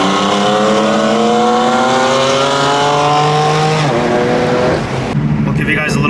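Two BMW cars rev their exhausts one after the other, comparing a modified system with a bone-stock one. Loud rising and falling engine revs with strong harmonics run for several seconds, briefly dropping away near the end before returning.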